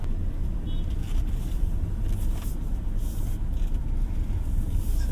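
A Toyota Hilux GR-S pickup drives toward a slalom course, heard from inside the cab as a steady, moderately loud engine and road hum that barely varies throughout.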